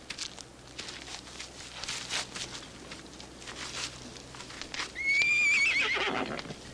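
Horses in a TV drama campfire scene, hooves clip-clopping unevenly and then a loud, close whinny rising near the end, with no talk over it.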